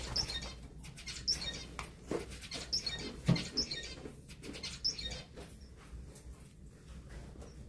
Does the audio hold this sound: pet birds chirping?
yes